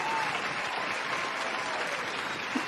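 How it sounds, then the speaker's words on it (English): A crowd gives a round of applause, steady and dense clapping that fills the whole short stretch at an even level, with no talk over it. "Got D35 a round of applause."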